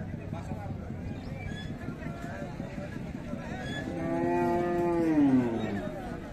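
A Friesian cow lets out a long, drawn-out moo over a busy background of chatter and livestock noise at a crowded rural cattle market in Dinajpur, Bangladesh.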